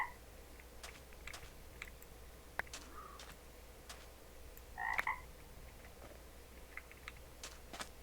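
Magic frogs in a Minecraft modpack game let out a single short croak midway, over faint steady background noise and scattered light clicks like keyboard or mouse taps, with no talking.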